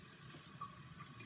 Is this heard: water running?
yes